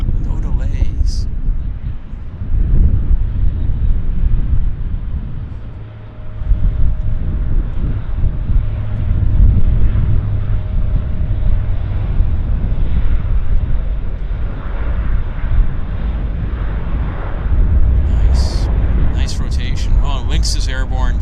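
Air Canada airliner on its takeoff roll at Vancouver Airport, a loud, sustained jet rumble and roar with wind buffeting, voices intermittently over it.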